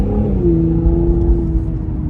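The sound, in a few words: Cadillac CT5-V engine accelerating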